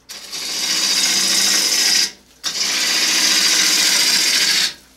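Electric lathe spinning a wooden bowl at higher speed, about 1,000 rpm, a loud steady motor whine running for two seconds, briefly cutting out, then resuming for another two seconds.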